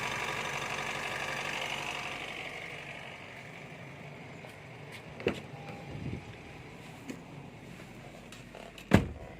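Diesel engine of a Honda CR-V running steadily at idle after a repair, a low continuous hum with a few sharp clicks and knocks near the end, no talking.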